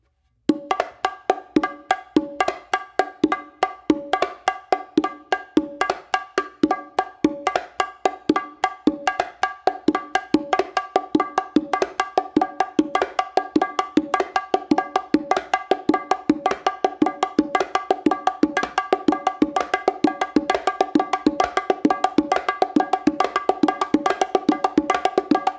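Bongos played through a flam exercise, a fast steady stream of sharp doubled hand strikes on the drumheads that grows denser and louder after the opening seconds, close and alone with no voices.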